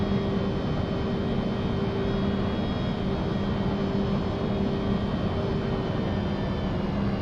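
Embraer E175 airliner departing Minneapolis St. Paul in X-Plane 11, a steady, unbroken cabin engine drone with a constant low hum and faint tonal whine throughout, no voices.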